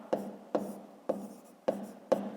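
A pen writing numbers on paper for a maths exercise: five evenly spaced, scratchy strokes, each a sharp onset that fades, close and quiet with no voices.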